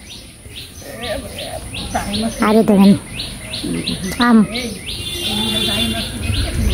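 Birds chirp around a home in a series of short, bright tweets, some close and loud, while people talk nearby over a faint steady background hum.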